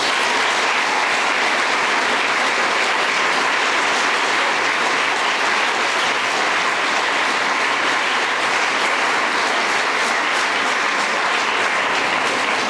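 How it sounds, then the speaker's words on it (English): Sustained audience applause after senior speeches, a dense, steady wash of clapping from a large crowd that holds at full loudness throughout with no talking over it. "Let's give another round of applause for our amazing speeches."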